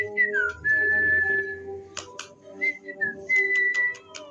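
A person whistles a short melodic tune, clear sustained notes broken by brief pauses and a few clicks and taps in between.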